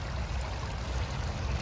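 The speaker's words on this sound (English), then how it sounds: "Lovely water feature in the back corner there" A garden pond water feature in a back corner trickles and babbles steadily at close range, a continuous soft splashing with no talk.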